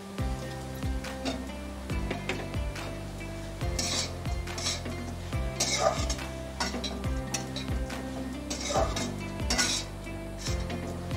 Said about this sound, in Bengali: এবার 2 মিনিট ধরে ভালো করে আমি কষিয়ে নেব।